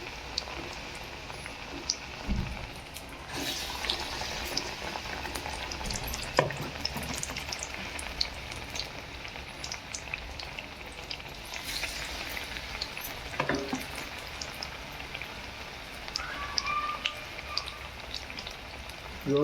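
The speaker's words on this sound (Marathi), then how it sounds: "बटाटा तेल मध्ये सोडायचा. आता आपल्याला याला सोडायचं." Batata bhaji, potato fritters in gram-flour batter, deep-frying in hot oil, giving a steady dense sizzle with crackling pops throughout, close and fairly loud with no talking.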